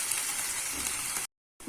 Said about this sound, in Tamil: இப்போ பாருங்க, இது நல்லா கொதிக்க ஆரம்பிச்சிக்கிச்சு.